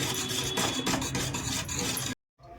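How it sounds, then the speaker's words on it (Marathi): Cooked moong dal, pressure-cooked with turmeric, salt, oil and chopped tomato, mashed in a pot: close, continuous thick scraping and rubbing that stops abruptly near the end, with no voices. "डाळ चांगली घोटून घेते."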